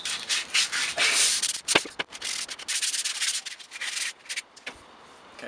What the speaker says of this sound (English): I'll just give it a light sand